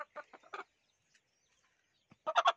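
A desi gavran rooster with thick legs and large wattles gives short, close, loud bursts of calling, first a cluster of quick notes, then a silent pause, then another strong burst.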